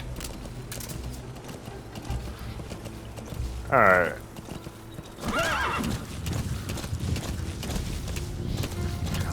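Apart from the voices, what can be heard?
horse hooves galloping in video game Metal Gear Solid 5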